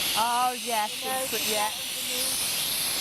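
A Polti 2-in-1 steam mop used on a shower enclosure door blasts a loud, steady hiss of steam that fills the whole clip, with people talking briefly over it.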